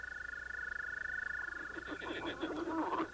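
Bullfrogs croaking in a lily-pad pond in Marshall, Texas, a steady trilling drone joined by a chorus of rapid, pulsing croaks toward the end, fairly close.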